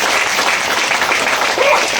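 Audience applause fills a hall, a steady wash of clapping held at an even level for a couple of seconds.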